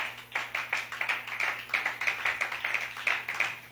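A congregation claps together during a church worship gathering, a dense, steady run of many hands beating quickly and evenly, sustained and fairly close throughout.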